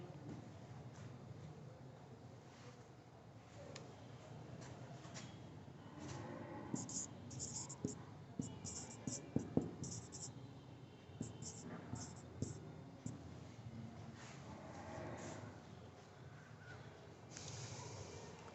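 Writing an equation on a board during a Class 12 physics lesson on the Wheatstone bridge. Soft scratchy strokes come in short clusters, with faint talk running underneath.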